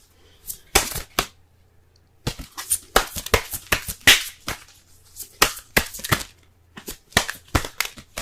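A deck of Romance Angels oracle cards is shuffled by hand, close and crisp: repeated sharp riffling bursts and slaps in uneven clusters, separated by brief quiet pauses.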